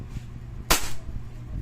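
A Hi-Capa T-Rex gas airsoft pistol fires a single sharp, loud crack over a low background hum.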